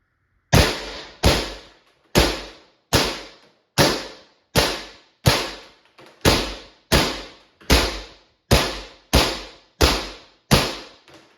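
A Pepperball VKS less-lethal launcher at 1100 psi fires about a dozen sharp, loud pops in an even, rapid rhythm, each crack decaying quickly, close by and with no talking.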